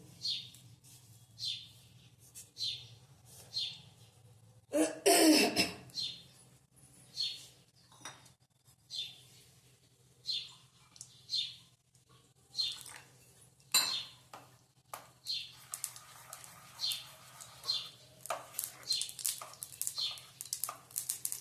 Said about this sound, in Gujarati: હવે આપણી રાઈ તળતળવા લાગી છે.